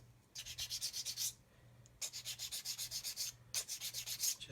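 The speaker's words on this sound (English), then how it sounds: "Just sand that all flat." A hard sanding stick is rubbed back and forth over a plastic 1/35 scale model kit part to flatten it, giving close, quick rhythmic scratchy strokes in three bursts with short pauses between them.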